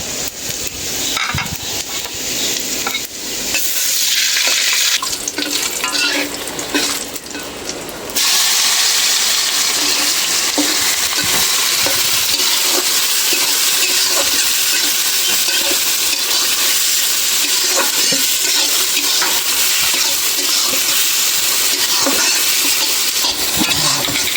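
Dried red chilies and whole cumin seeds fry in hot oil for pulao, a loud, close, continuous crackling sizzle that jumps in intensity partway through, with scattered stirring clinks.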